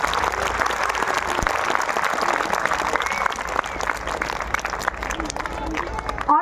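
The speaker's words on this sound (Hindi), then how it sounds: "एक बार जोरदार तालियां फिर से।" Loud, dense audience applause at a school function, a steady roar of many hands clapping close by, with crowd murmur and some voices mixed in.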